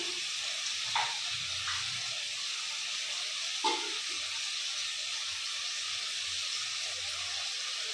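A ground paste of onion, garlic, cumin and tomato fries in a pan with a soft, steady sizzle and faint hiss, broken by a couple of brief stirring scrapes early and midway.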